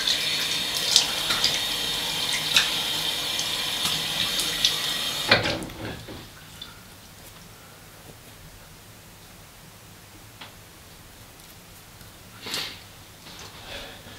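A tap runs steadily into a sink for rinsing off, giving a loud, close hiss of water. After about five seconds it shuts off abruptly, leaving quiet room tone and a few faint handling sounds.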